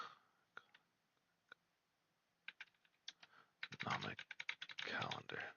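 Typing on a computer keyboard: a few sparse, faint key taps at first, then a quick burst of rapid clicking keystrokes, close but quiet, with soft speech partly mixed in.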